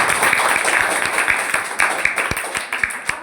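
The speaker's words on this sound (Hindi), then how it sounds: "इसके लिए ताली बजाओ" Students in a classroom clap together, a scattered run of sharp hand claps that grows more uneven and sparse, heard close over a steady room hiss.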